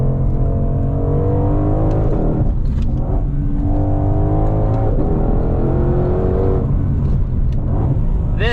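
A Ford Shelby GT500 with a 7-speed dual-clutch gearbox pulls hard, its loud engine climbing in pitch through repeated upshifts, each rise cut short by a quick gear change, with little supercharger whine.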